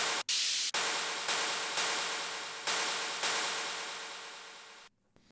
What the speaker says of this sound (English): this is just like a cymbal mixed with a lot of white noise